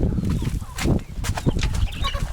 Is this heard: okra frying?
no